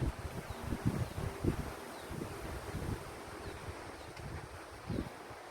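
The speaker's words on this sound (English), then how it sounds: "This wind is just a nuts right now." Strong gusts blow through a tree outdoors, giving a faint, steady rushing with soft rustling and buffeting against the microphone, and no one speaks.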